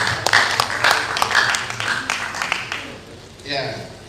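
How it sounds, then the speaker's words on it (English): An audience at a university advisors' workshop gives a round of applause, clapping in irregular bursts that thin out, with a voice speaking over parts of it. "Shall we please give him a very wonderful round of applause?"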